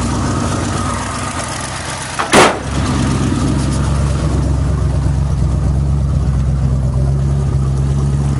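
A 1965 Ford station wagon's engine drones steadily on the highway, a continuous low rumble with a single sharp knock or thump partway through.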